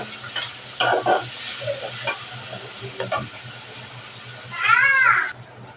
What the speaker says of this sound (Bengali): পেঁয়াজ কুচি আর মরিচ ফলে পেঁয়াজটা ভালোভাবে ভেজে নেব